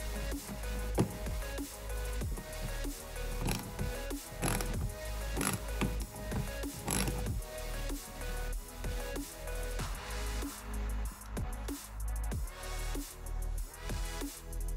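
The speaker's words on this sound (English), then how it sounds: "First, remove the rear bumper screw." Screw being removed from the rear bumper of a Tesla Model Y with a ratcheting tool, producing a steady run of close clicking ratchet strokes with no talking.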